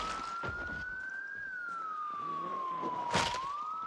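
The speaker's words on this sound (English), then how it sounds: "I don't think we're going to be using the siren anytime soon" A police car siren wails in Project Zomboid, a steady rising and falling tone held throughout, loud over background game noise and scattered thuds.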